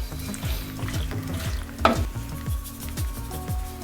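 A spoon stirs a pumpkin mixture sizzling in a frying pan, giving steady scraping strokes roughly twice a second over a constant fry, with one sharp clink partway through.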